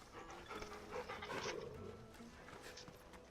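A dog in the video game Final Fantasy XVI pants softly while being petted, a quick rhythmic breathing at low volume with faint game ambience around it.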